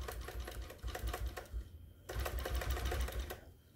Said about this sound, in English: we got it going in regulated mode because we can stitch around nice and slow